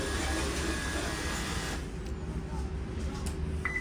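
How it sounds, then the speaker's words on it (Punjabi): Bank ATM dispensing cash: a loud mechanical whirring and rustle for about two seconds, then a quieter hum ending in a short electronic beep. "ਏਟੀਐਮ ਮਸ਼ੀਨ ਹੁਣ ਆਪਾਂ ਨੂੰ ਪੈਸੇ ਦੇਊਗੀ"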